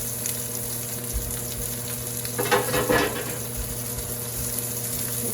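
Pork chops searing in a frying pan for a mushroom vodka sauce dish, a steady, close sizzle over low kitchen hum with a brief swell of louder crackling midway.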